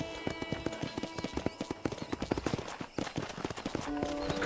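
Horse hooves clip-clop on a video game ranch corral, a steady run of sharp, fairly close hoof strikes that keeps going throughout with game ambience beneath.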